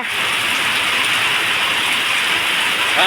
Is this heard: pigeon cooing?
no